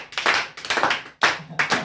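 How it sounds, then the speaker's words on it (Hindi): A class of students applauds at a physics group debate, with several bursts of hand clapping separated by short pauses, fairly close and no talk over it. "हाँ ताली बजाइए।"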